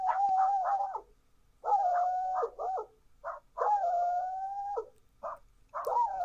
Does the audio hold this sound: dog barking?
yes